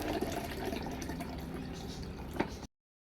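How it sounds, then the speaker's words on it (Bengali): Cold water pours steadily into a blender jar already holding mint leaves, salt and sugar for a mint lemon drink, a continuous close splashing fill that stops abruptly, followed by a brief loud knock. "এখন ঠান্ডা পানি দিয়ে ব্লেন্ড করে নেব।"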